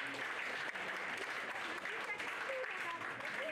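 A crowd at a pony club carriage-driving awards ceremony applauds a pony driving team, with dense, continuous clapping throughout and voices talking underneath.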